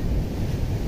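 A steady wash of ocean surf rumbles close by, low and broad, with wind buffeting the microphone.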